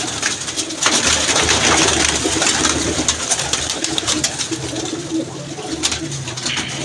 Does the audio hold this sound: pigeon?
yes